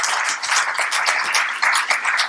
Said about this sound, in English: Let's have a round of applause for this great thing.